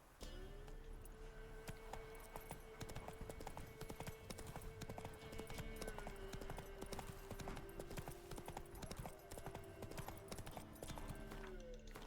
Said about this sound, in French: Monte sur le cheval.